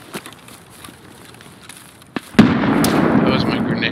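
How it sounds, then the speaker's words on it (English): A loud video game grenade blast bursts in after two seconds of quiet rustling, then rumbles and crackles on as debris-like noise. "That was my grenade noise."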